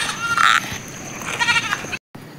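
A goat kid gives a couple of short, close bleats, the first higher and sharper and the second wavering, over quiet outdoor background before a brief dropout.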